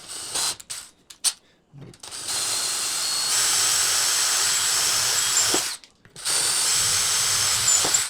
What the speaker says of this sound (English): Hold it into place, and we are going to drill our hole.